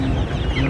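Native chickens clucking close by, a short burst of busy, overlapping clucks over a dense low rumble of flock noise, with no voices.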